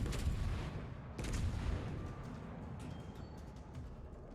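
Heavy naval gunfire in the World of Warships Legends battle, with a deep boom at the start and another just past one second over a steady low rumble of distant cannon fire and explosions.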